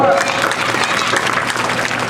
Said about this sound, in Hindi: Come on everyone, let's clap, come on.